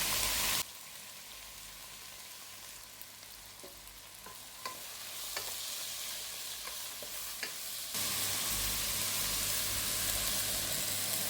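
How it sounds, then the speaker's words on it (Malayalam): Water poured from a mixer jar and a bowl into koorka (Chinese potato) thoran in a pan, a soft splashing trickle that briefly stirs up sizzling and frying sounds, with a louder steady hiss at the start and end. "നമ്മുടെ മിക്സിയുടെ ജാറ് കഴിയതും ഈ ഒരു ബൗൾ കഴിയതും ഇത്തിരി വെള്ളമൊന്ന് ഒഴിച്ചു കൊടുക്കാം"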